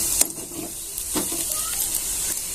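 Curry leaves, chilli powder and salt sautéing in oil for an onion chutney, giving a steady close hiss broken by a couple of soft stirring scrapes.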